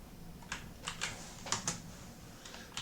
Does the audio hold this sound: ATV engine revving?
no